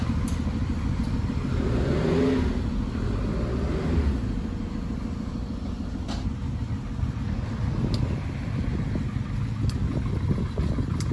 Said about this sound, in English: The lovely man is now going to drive her out.